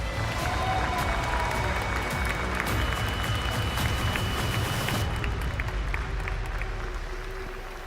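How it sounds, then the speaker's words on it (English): A crowd applauds chess player Hikaru Nakamura at an esports tournament playoff, steady clapping mixed with cheering over event background noise, fading gradually toward the end. "please can I have a round of applause for Hikaru"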